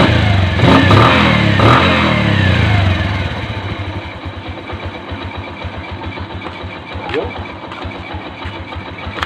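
A Bajaj CT 100 motorcycle engine, an older bike on a home service call, revs loudly, then drops to a close, steady putt-putt idle with a brief blip near the end.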